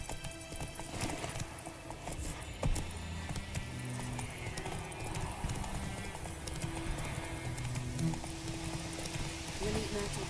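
Roach, a horse in a video game, gallops with rhythmic hoof clip-clops and a brief whinny, steady and fairly close, while someone talks over the running.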